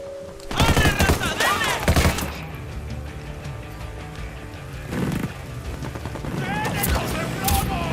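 Gunfire in the video game Ghost Recon Wildlands comes as loud bursts of rapid shots, the first early and more later on, over game noise and brief voice lines.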